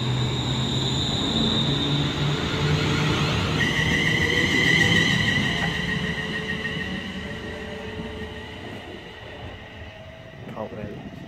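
A ScotRail Class 380 electric train at Prestonpans station on the East Coast Main Line, its motors humming and whining as it moves off and fades, with a platform announcement and nearby voices over it.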